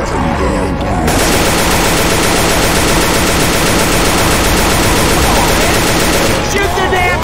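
Loud, continuous automatic gunfire in Left 4 Dead 2, with players shooting at a Tank during a Military Industrial Complex match; rapid shots blur into an unbroken roar that thins out near the end.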